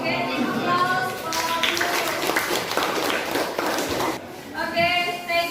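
Classroom applause for a student group during an English lesson, brisk clapping from a small class in a room, with voices and chatter heard alongside.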